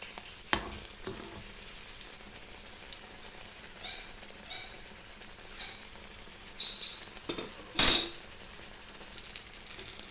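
Puffed-up food fries in a little oil in a pan and is flipped over. A constant crackling sizzle is broken by a few clatters and one loud, brief burst of hiss as the piece turns.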